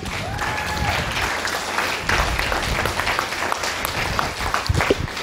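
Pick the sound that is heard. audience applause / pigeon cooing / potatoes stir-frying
audience applause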